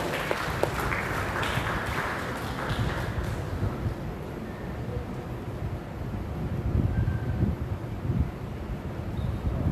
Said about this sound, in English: Can we have a huge round of applause for Mr. Arthur?